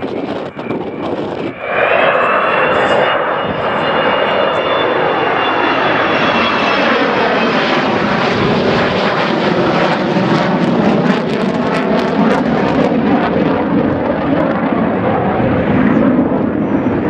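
A 55-year-old Avro Vulcan jet bomber roars past at an airshow, a loud, sustained engine roar with a sweeping pitch shift as it passes overhead, continuing strongly to the end.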